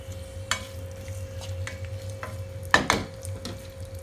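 Chopped potatoes stirred through melted butter in a pan, a steady low sizzle of frying running throughout with scattered spoon scrapes and a louder clatter near the end.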